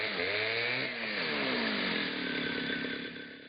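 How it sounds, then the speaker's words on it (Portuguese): A chainsaw cuts through tree trunks blocking access along a river expedition route, its engine whining steadily and close, pitch sagging slightly under load before easing off at the end. "o acesso só é possível com a ajuda de uma motosserra para cortar os troncos de árvores"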